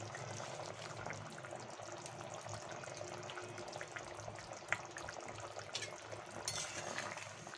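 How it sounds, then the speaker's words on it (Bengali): Pumpkin curry with fritters and potatoes simmering in a pan of extra water, a faint steady bubbling and gurgling with small pops and light clinks, quiet and close. "দু মিনিট ভালো করে ফুটিয়ে নেব"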